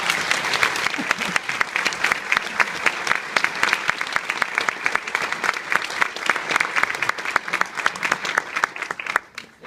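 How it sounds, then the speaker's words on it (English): A crowd applauds steadily for several seconds, dense clapping that holds strong throughout before tapering off at the very end. "Let's give these folks a round of applause."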